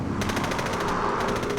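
Bursts of automatic gunfire rattle continuously in rapid succession, loud and close, with dense overlapping shots throughout and no voices.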